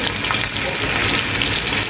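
Fish and garlic fry in a pan with a dense, steady sizzle that holds at an even level for the whole stretch. The sound is close and continuous, with no voices heard.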